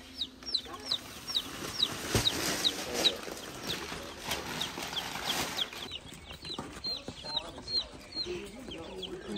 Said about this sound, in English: We've got our chicks.